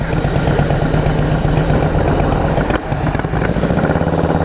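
A 2017 Harley-Davidson Heritage motorcycle engine pulls in sixth gear after advanced tuning, a loud, steady low rumble with a regular firing pulse that dips briefly near the end before droning on.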